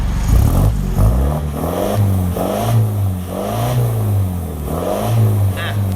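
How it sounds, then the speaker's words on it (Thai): A car engine is blipped repeatedly, rising and falling in several quick revs, the exhaust note rounded and muted by a middle resonator, recorded up close. "ลองเบิ้ลฟังหน่อยครับ"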